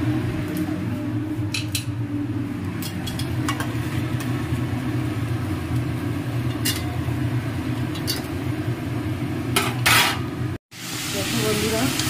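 Shredded cabbage fries in very little oil in a covered pan, a steady close sizzle that runs throughout, with occasional light clinks and a brief drop near the end.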